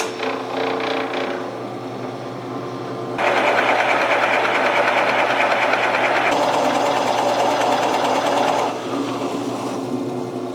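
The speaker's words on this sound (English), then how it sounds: "we'll just go to the drill press, and we'll use some Forstner bits to hog out the bulk of this" A drill press drives a Forstner bit into wood, its motor whirring steadily with a louder, rougher grinding stretch in the middle as the bit bites, then settling back.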